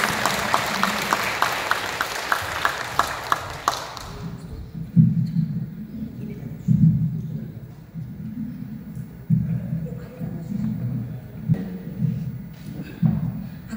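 Applause from a crowd rings out for a few seconds, then fades into low muffled thumps and indistinct room sound.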